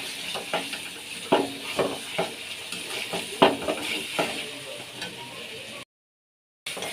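Goat meat sautéing and being stirred in a pan for an Eid curry, a steady close sizzle broken by scraping spoon strokes and clinks, then a brief silence before the frying resumes.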